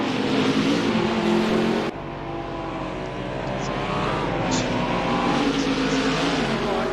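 Race cars in the ATCC virtual sim racing series roar past side by side, engines droning and revving, with a sudden cut in the sound partway through before the engine note continues steadily.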